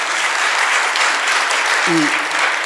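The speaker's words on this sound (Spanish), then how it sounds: "Por favor, les pido un aplauso para él." An audience at a book presentation in the Reial Cercle Artístic applauds in a steady, dense wash of clapping, with a brief voice cutting in near the end.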